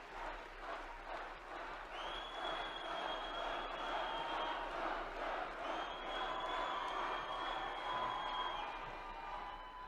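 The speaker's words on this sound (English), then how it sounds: "This is a very energetic crowd." Energetic crowd at a political rally cheering and shouting continuously, loud and dense throughout with broad roaring noise and a few sustained whistles or shouts above it.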